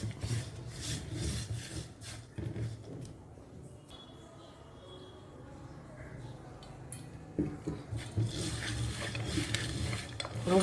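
Chips dough being mixed with salt and water: close, uneven scraping and rubbing strokes with a soft gritty texture, quieter in the middle and busier toward the end, with no talk.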